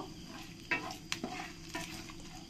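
Dried red chillies and two large bay leaves frying in oil for mutton curry, a soft low sizzle with a few quick stirring scrapes and taps of a spoon, close but quiet.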